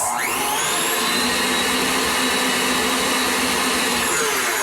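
An electric mixer whirs through paleo banana nut bread batter, spinning up quickly and then holding a loud, steady high-pitched motor whine close by, easing down right at the end.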